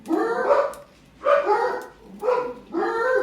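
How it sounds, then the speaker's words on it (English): A dog barks repeatedly, four close, loud barks in a loose rhythm with short pauses between them. "I see the dogs barking"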